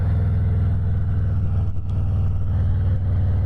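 Steady low rumbling drone of a Harley-Davidson Heritage touring motorcycle with a 114 engine cruising, constant and close with a brief dip midway.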